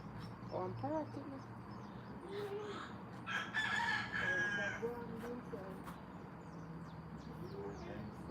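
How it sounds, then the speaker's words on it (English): A rooster crows outdoors in Jamaica, with a few calls at moderate distance, the clearest in the middle, heard over a constant background hum and occasional talk. "I think maybe it's trying to communicate with the other birds."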